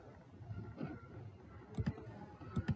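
Several crisp computer mouse clicks ring out close and quiet, a single one followed by two quick double-click pairs, over a faint room hiss.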